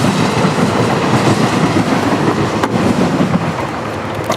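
A train rumbles past close by, a loud continuous roar with rhythmic clattering of wheels on the rails.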